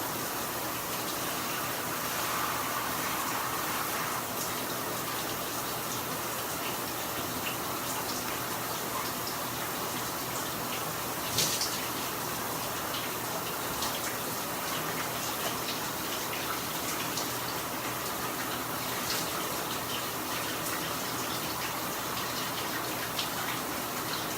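Shower water runs steadily throughout while someone shampoos, a continuous close spray with no talking.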